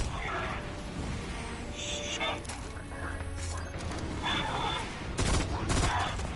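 Gunfire in the Destiny video game rattles in scattered bursts over a busy mix of game noise and mechanical clatter, with a heavier volley near the end.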